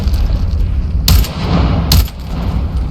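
Two sharp, loud gunshots from the VR shooter game Into the Radius 2, about a second apart, each a sudden broadband crack over a steady low rumbling ambience, with no talking.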